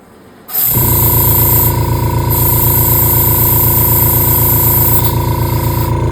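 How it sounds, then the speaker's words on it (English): An airbrush clearing silver paint starts abruptly and keeps up a loud, steady, close hiss of spraying air that holds unbroken to the end. "Now it is going to take a minute to get the silver ran out of this airbrush."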